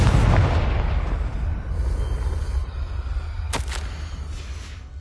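Confringo blasting spell detonating in Hogwarts Legacy, a deep rumbling boom with a sharp crack near the middle, set against a steady low ambient roar throughout.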